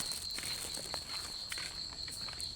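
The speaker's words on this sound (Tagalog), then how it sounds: "may mga kuliglig" Crickets chirp at night outdoors, a steady high-pitched trill running through the whole stretch, with a few soft scuffs of footsteps passing nearby.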